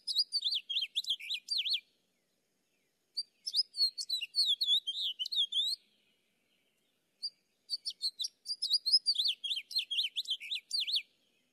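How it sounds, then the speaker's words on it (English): House finch and American goldfinch singing: three bursts of rapid, bright twittering phrases with short pauses between them, clear and close with no background noise. "The sound you're going to hear is the house finch and the American goldfinch."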